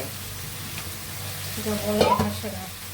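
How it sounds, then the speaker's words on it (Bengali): Spices are sautéed and stirred in a hot pan with a steady low sizzle. A louder scrape of the spatula comes near the end, and no one speaks. "মশলাটা কষিয়ে নিচ্ছি মশলা কষিয়ে নিয়ে আমি তরকারি দিয়ে দেবো"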